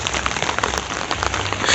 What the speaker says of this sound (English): There was so much rain, so I had to wait a little bit.